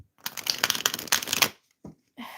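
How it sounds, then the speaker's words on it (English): Tarot cards shuffled by hand in a riffling burst of crisp papery flutters for about a second and a half, followed by two short soft taps of the deck settling, close and alone with no talk. "I'm just gonna shuffle the cards."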